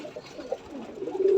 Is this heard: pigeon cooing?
yes